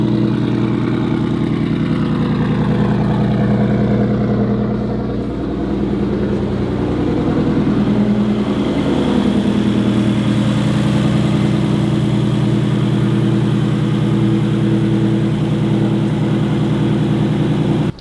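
A Subaru STI engine idles close by with a loud, steady low rumble that holds almost unchanged throughout, with no talk over it.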